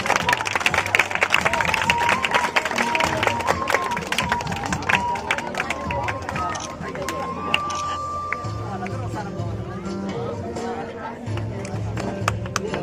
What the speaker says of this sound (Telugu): చప్పట్లు కొట్టినారు త్వరగా